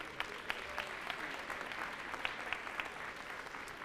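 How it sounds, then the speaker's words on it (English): An audience at a school district State of Our Schools event applauds the students: steady, moderately distant crowd clapping with a continuous wash of hand claps and a few sharper individual claps standing out. "One more big round of applause for all of them."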